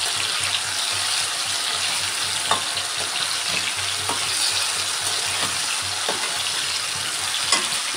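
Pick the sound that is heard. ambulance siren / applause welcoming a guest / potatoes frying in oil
potatoes frying in oil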